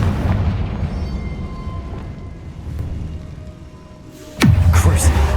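A Confringo blasting spell goes off in Hogwarts Legacy: a sudden loud, booming burst with a sweeping whoosh near the end, following several seconds of low rumbling ambience.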